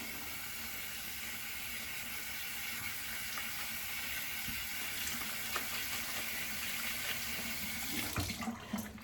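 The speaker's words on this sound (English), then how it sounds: "So I'm going to add some near hot water." Hot water runs steadily from a tap into a bathroom sink, a continuous even splashing hiss at moderate level, with a few small clatters and a brief change in the flow near the end.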